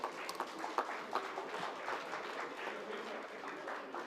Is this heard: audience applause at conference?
yes